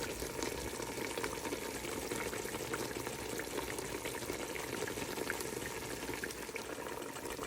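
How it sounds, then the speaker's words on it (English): Bones simmering in water for a Ghanaian soup broth, a soft, steady bubbling and gurgling from a pot, faint and continuous with no talking. "I wanted the bones to keep boiling, so I added 8 more cups of water."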